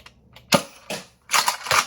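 Breacher prototype toy blaster firing full-length dart shells, a few sharp pops in quick succession, the last two bursts close together, near and fairly loud with no talking.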